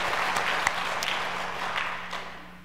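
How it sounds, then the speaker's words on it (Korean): A church congregation at a Wednesday service claps together in steady, dense applause that carries on evenly throughout at moderate loudness. "하나님께 영광의 박수 올려드리고 싶습니다."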